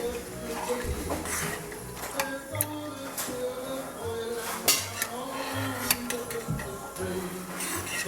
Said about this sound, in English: all we want to do is just stir that until it's all mixed together